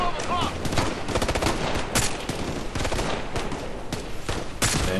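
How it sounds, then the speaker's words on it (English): Dense gunfire in the video game Ghost Recon Future Soldier on elite difficulty, with rapid bursts and sharp repeated shots packed closely together over a continuous loud battle background. "I don't like that sniper rifle."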